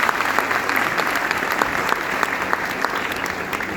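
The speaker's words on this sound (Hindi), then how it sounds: "सारे लोग मिलकर पहले तालियां बजाएंगे" An audience at an ITI convocation program claps in a steady, dense round of applause, continuous and fairly close throughout.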